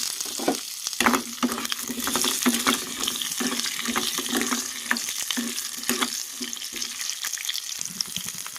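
Onions fry lightly in oil in a pan for a stuffed eggplant masala curry. A soft continuous sizzle is broken by frequent clicks and scrapes from stirring, close and moderately quiet.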